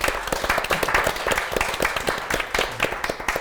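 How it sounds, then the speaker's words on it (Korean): Audience applause for the staff who organized a community support activists' forum in Gyeonggi Province, with dense, steady clapping sustained throughout at a moderate distance. "느닷없이 스태프들에게 감사 박수 보여드리겠습니다."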